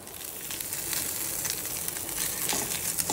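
Onion and ginger paste frying in hot oil in a home kitchen, a steady close sizzle with faint crackles and spatters running evenly throughout, no voices.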